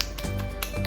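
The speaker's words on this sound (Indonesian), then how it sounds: "terus tepuk-tepuk deh di wajah biar dia nyerap gitu" Fingers pat toner onto a face in a few soft, quick taps, close and faint.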